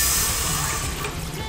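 Water pours steadily from a tap into a pot for polenta, a loud, close, continuous rush over the whole short stretch, with no talk heard.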